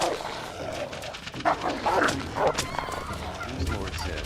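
Dogs in the New World game, a few sharp, close barks and yips in a quick burst, followed by softer whimpering under a busy game soundscape with no talking.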